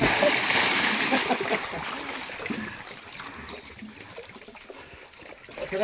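Water splashes and trickles as people bathe in Sugba Lagoon, the loud sloshing strongest at first then easing into softer dribbling, with voices mixed in.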